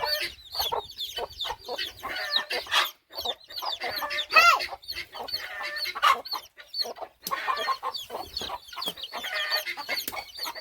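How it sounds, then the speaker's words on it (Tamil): A flock of chickens clucks busily and without pause, with overlapping squawks and cackles close by. No one speaks. "கோழி வேற தடிக்குது"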